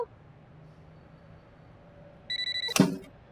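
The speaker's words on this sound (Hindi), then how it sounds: "चांदनी, चांदनी, फोन उठाओ ना।" A short burst of electronic telephone ringing near the end, several quick trilling pulses followed by a louder clatter, over a quiet room hum.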